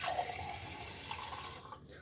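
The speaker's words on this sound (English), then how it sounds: "fill it up with a bit of water." Tap water runs steadily into a clear glass, a continuous close hissing splash that holds evenly for about two seconds before thinning out near the end.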